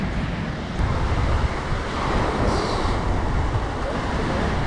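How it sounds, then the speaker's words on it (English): Rough ocean surf at Alleppey Beach in India fills the clip with a loud, continuous broadband wash, steady crashing and wind noise throughout, with a brief hiss rising near the middle and no clear speech. "It's a chill beach, but the waves are quite rough."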